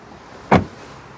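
The rear door of a Nissan Qashqai closes with one soft, muffled thud, short and close, against a quiet background.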